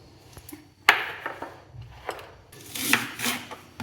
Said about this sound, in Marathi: कांदा मोठा मोठा कट करायचा.